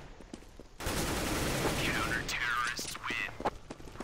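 Rapid gunfire from an auto sniper in a competitive shooter match erupts in a dense burst, with shots and effects layered over low talk.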